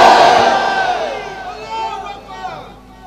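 A large crowd at a Bangladeshi Islamic waz sermon gathering shouts a loud chant that fades and echoes away over a few seconds, with no voice heard alone.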